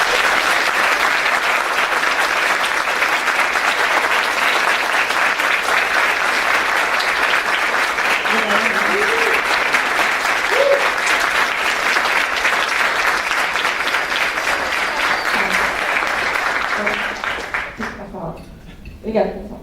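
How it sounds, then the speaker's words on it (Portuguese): A tech conference audience applauding after a keynote, a loud, dense, sustained round of clapping that fills the room and fades out near the end. "eu queria uma salva de palmas para todo mundo aqui,"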